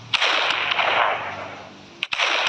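Gunfire in the Minecraft video game, loud sharp blasts over a dense, noisy burst of sound, with a cracking hit near the end and no voice.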